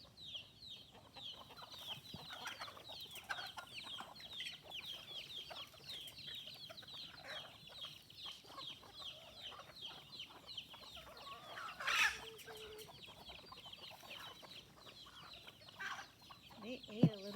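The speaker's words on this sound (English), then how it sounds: "feeding my chickens from the balcony." Chickens are fed from a balcony, clucking and murmuring continuously at a modest distance, with a louder squawk partway through and another sharp call near the end.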